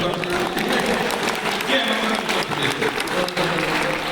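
Audience at a Hindi kavi sammelan poetry recital breaks into loud, continuous applause, dense clapping from a large crowd with voices mixed in beneath.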